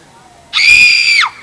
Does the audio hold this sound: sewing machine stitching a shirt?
no